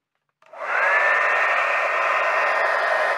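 A Qi blow dryer with a blue-light feature switches on and runs steadily, a loud, close, continuous whooshing roar with a faint whine and no talking.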